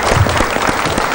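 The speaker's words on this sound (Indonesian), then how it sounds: "Ya, tepuk tangan." Loud, close applause from an audience at a university community-service program event, dense clapping in a short burst.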